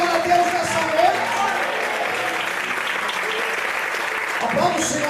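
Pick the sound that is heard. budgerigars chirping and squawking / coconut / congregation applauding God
congregation applauding God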